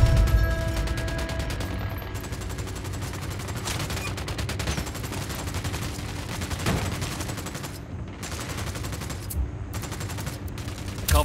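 Gunfire rattles through a Ghost Recon Wildlands firefight, with rapid, continuous bursts of automatic shots crackling at moderate distance for the whole stretch, broken only by brief lulls.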